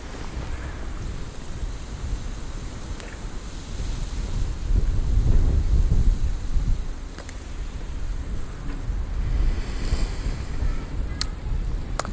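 Gusty wind blowing outdoors, buffeting the microphone with a steady broadband rush that swells louder midway, with a few faint clicks and no talking.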